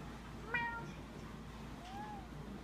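A house cat meows twice near a blanket indoors, a short rising-falling call followed about a second and a half later by a softer, lower one, against a quiet room background.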